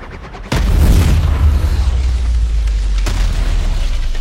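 A grenade blast in a film lands as one sudden, loud boom that swells into a long, deep rumble, then a second softer thud shortly after, with no talking.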